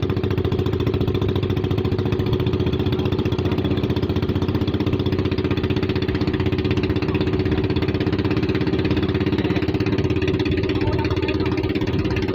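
A boat engine drones steadily and loudly for the whole stretch, a constant mid-pitched engine hum with no pauses.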